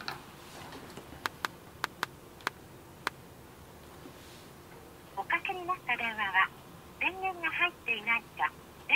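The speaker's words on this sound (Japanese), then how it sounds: "とりあえずマルに電話してみろよ" A phone being dialed in a Japanese drama: a run of sharp, evenly spaced dial clicks or tones, followed by a stretch of ringing or warbling call tones on the line. People talk faintly underneath.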